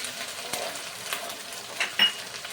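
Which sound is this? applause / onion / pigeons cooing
onion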